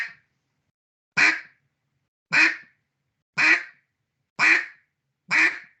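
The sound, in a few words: duck call imitating a hen mallard quack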